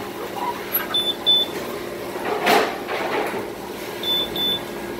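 A Hoshizaki ice machine in alarm sounds a two-beep safety-limit alert, short paired electronic beeps heard twice, early and late, over steady machine noise, with a clunk in between.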